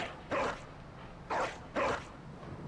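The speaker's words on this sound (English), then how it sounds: "we're right next to all the caged dogs" Three short barks from caged dogs in the video game Bloodborne ring out, spaced about a second apart, moderately loud against a quiet, slightly hissy background.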